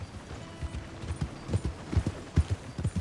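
Hooves thud rhythmically as a horse gallops in Red Dead Redemption 2, close and moderately loud over a low ambient bed, with no one speaking.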